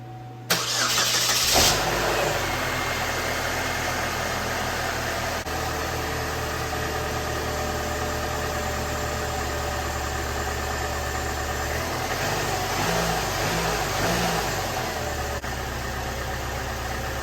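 Oldsmobile Alero four-cylinder car engine cranking briefly, catching and settling into a steady, even idle that runs on loudly and nearby, with a slight rise in revs near the end.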